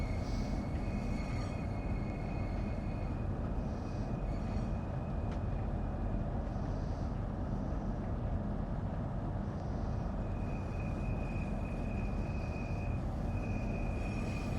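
A train rumbles along steadily in Train Sim World 3 on Xbox Series X, with a constant low roar of wheels on rail and faint occasional squeals and tones on top, with no talk.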